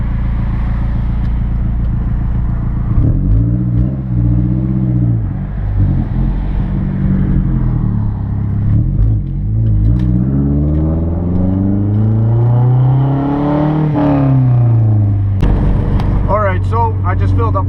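Mazdaspeed 3 running rich with a P0172 fault, driven on a cruise, its engine loud and close with rising and falling revs, some pops and crackles, and a voice talking over it.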